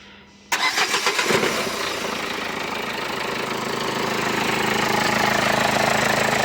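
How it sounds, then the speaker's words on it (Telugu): A 2014 Nissan Sunny XL petrol car starting on its self-starter: a brief cranking whir catches into a loud, close engine that settles into a steady, even idle. "మళ్ళీ ఒకసారి సెల్ఫ్ ఆపి మళ్ళీ స్టార్ట్ చేపిస్తాను"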